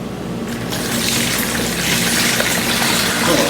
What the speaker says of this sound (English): Probably gonna have to take some of the water out.